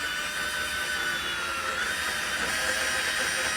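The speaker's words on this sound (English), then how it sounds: "You should use a drill press for this" A power drill bores through metal while fitting a Hydrovane self-steering unit to a Beneteau 423 sailboat, giving a steady, close, high-pitched whine that holds without a break and without any talk.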